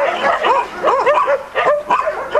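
Brittany spaniels bark and yip in short, excited bursts, several overlapping calls close by with whiny pitch bends, no talk over them.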